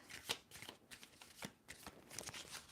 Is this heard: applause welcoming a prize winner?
no